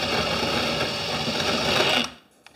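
A power drill driving in reverse on a loose kitchen cabinet hinge whirs steadily at close range for about two seconds, then winds down and stops, followed by a couple of faint clicks.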